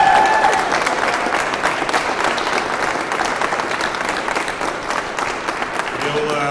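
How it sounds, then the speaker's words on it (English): A big round of audience applause greets student marathoners at the Philadelphia Marathon race weekend kickoff, steady dense clapping throughout with a brief voice near the end. "Let's give them a big, big round of applause."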